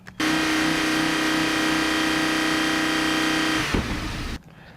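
A car engine held at a high, steady rev with a strong droning whine, then a brief shift before it cuts off.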